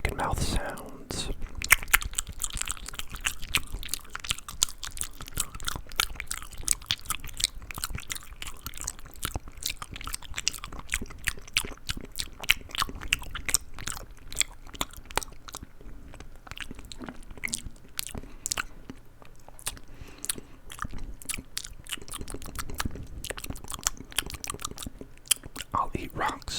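Steady, close-miked crunchy chewing and biting of carrots, celery and nuts, a continuous run of sharp crunches and mouth sounds with faint whispering under it.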